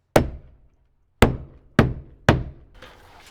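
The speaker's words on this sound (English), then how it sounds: "We'll pound out those nails so you don't hit them with the circular." A hammer pounds nails out of a wooden beam pocket frame in four sharp, resonant thuds, one, a pause, then three in quicker succession, close and loud with a short woody ring after each strike.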